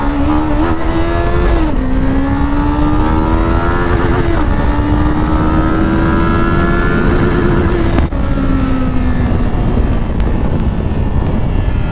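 A Qjmotor Race 450 motorcycle pulls hard in first gear, its engine note climbing steadily in pitch with brief dips at gear or throttle changes. The sound is loud, close and continuous, with heavy wind rush throughout.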